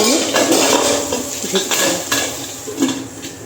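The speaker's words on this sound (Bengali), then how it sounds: "এবার আমি ঢাকাটা একটু খুলে দিচ্ছি দিয়ে একটু সামান্য নেড়ে নিই" A pot lid comes off and a metal utensil stirs the contents in a home kitchen: close, loud clattering and scraping against the pot over a faint sizzle, with no talking.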